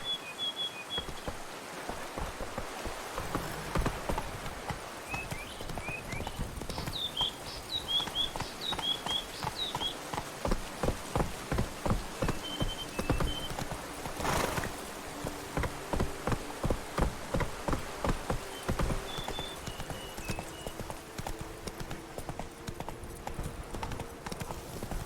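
Roach the horse galloping in The Witcher 3, rhythmic clip-clop hoofbeats building into a fast steady gallop over rain and ambient game sounds, with occasional bird calls and no speech.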